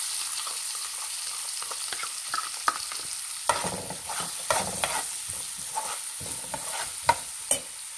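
Chopped onions and curry leaves sizzle steadily in a hot oiled pan for a tomato yogurt chutney, with a spatula scraping and stirring through them in irregular close strokes.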